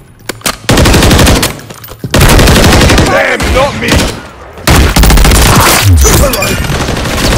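Rapid automatic gunfire from a BP50 assault rifle in the video game Modern Warfare 3, loud sustained bursts broken by short pauses, with a player's voice shouting over the shooting.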